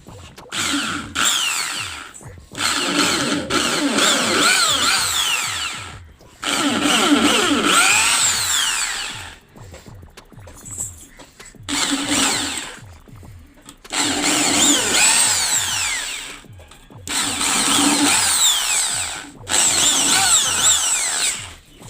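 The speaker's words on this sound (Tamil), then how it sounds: "ஸ்க்ரூ போடுற இடத்த ஹோல்ஸ் பண்ணிப்போம், அப்போ தான் நம்ம ஸ்க்ரூ போட முடியும் அழகாக" A power drill bores screw holes in an 8-inch speaker box, several loud, close bursts of whining motor noise with rising and falling pitch, separated by short pauses.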